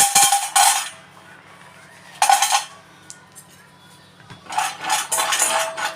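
Almonds being dry-roasted and stirred in a pan on low heat, with bursts of rattling clatter as the nuts are tossed against the metal, separated by quieter gaps with a faint low hum.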